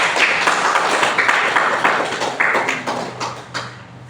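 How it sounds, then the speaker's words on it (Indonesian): A group at a field-study gathering applauds for a person named Wela, several seconds of loud, close, dense clapping that gradually thins out and fades. "Kita tepuk tangan untuk Wela."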